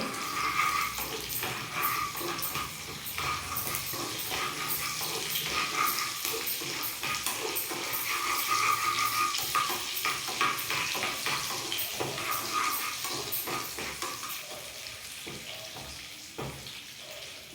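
Cashews frying in hot ghee for akkara vadisal make a steady, close sizzle and bubbling crackle, with occasional stirring scrapes against the pan throughout.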